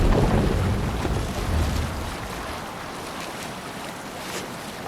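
Broad rushing wind and wave wash surround a sailing boat at sea in Assassin's Creed Valhalla, a steady dense roar that eases slightly after the first couple of seconds, with no voices.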